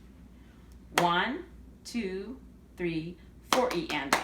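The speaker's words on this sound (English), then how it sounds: "So if I were to clap this measure, it would sound like this." Hands clap out a single measure of a rhythm exercise, with four evenly spaced claps followed by a quick burst of short claps at the end. A voice counts the beats aloud along with each clap.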